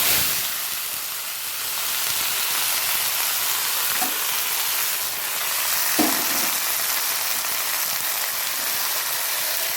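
Potatoes fry in a wok with black cumin, giving a steady, dense sizzle throughout, with a few soft stirring knocks.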